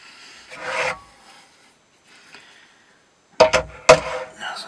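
A Vanadis 4E steel TRC Urban Tactical knife cuts through a test material in two or three short, sharp rasping strokes near the end, after a brief scrape and a quiet pause.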